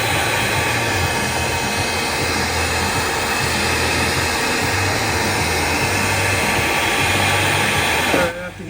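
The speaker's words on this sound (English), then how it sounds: "I do have a heat gun. I can do it this way." A heat gun blows a steady, loud rush of hot air while sound deadener is stripped from the inside of a Mazda RX-7 FD, the broadband roar holding unbroken for several seconds before cutting out near the end.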